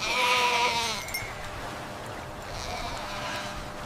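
A goat rescued from mud bleats loudly and close, a wavering cry at the start, then fainter bleats over a wet, muddy background with no clear talking.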